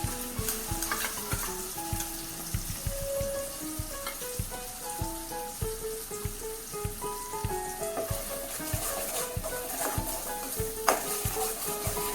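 Spice paste being stirred into onions frying in a tempering for a potato and chickpea dish: steady sizzling broken by regular scraping stir strokes, with soft music in the background.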